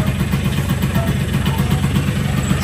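A loud two-stroke motorcycle engine runs close by with a rapid, steady low throb and a rough mechanical buzz, with no voices.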